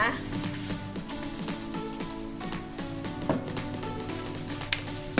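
Burger filling fries in a pan after soy sauce and sugar go in, giving a constant loud sizzle with scattered spatter clicks and light stirring, no voices.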